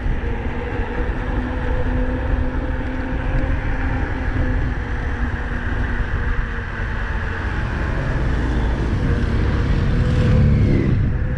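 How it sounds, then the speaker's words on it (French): Motor vehicle climbing a mountain road near the Col d'Aubisque, a continuous low engine rumble that builds slightly toward the end. "attention, il y a un moteur qui monte"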